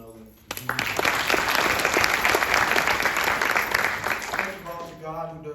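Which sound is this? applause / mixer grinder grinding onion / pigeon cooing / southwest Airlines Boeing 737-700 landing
applause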